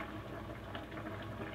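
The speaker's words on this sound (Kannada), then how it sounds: "ನೋಡಿ ಕುದಿತಾ ಇದೆ" Cabbage and chana dal bubble in a pot covered with a lid and a plate, a dense, continuous low rumbling boil heard up close and fairly quiet, with no talking.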